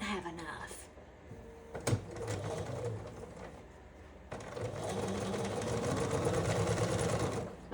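A sewing machine stitches a quilt block, its rapid mechanical whir running close and steady after some handling clunks, with someone talking over it.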